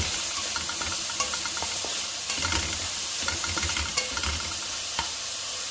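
Capsicum and carrot sautéing in a pan, a soft steady sizzle broken by repeated scraping stirs of a spoon against the pan, close and moderately loud.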